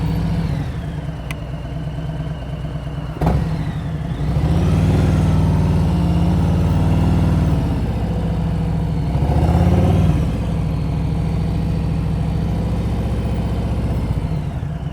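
Motorcycle engine during an advanced slow-speed riding practice session in Florida, running steadily close up with smooth surges as the throttle opens, one brief sharp knock early on, and no talk.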